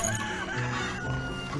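Chickens clucking in the farming video game Hearthlands, a dense steady flock murmur with faint rooster calls running throughout under a busy mix of other sounds.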